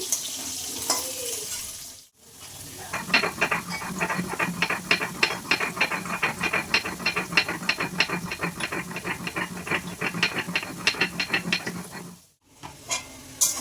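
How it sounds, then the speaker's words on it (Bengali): Rapid rhythmic scraping and grinding of spices on a grinding stone, stone on stone, repeating steadily at close range with a faint low hum underneath. "ওদিকে আমি মশলা বাটছি"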